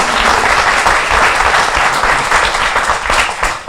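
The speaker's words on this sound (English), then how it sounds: "a big round of applause for that" A large audience at an onstage conversation with Madhur Jaffrey breaks into loud, sustained applause, a thick continuous roar of clapping hands that holds steady before easing slightly at the end.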